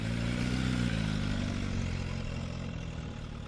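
An Aprilia RSV4 sport bike engine roars loud and close with a steady, throaty, sustained drone that eases slightly toward the end, with no voices over it.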